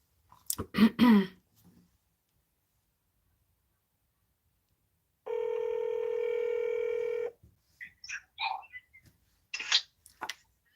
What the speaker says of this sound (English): Let me call this other caller who's been insisting.